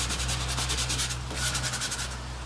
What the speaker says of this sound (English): you sand it till all the imperfections are gone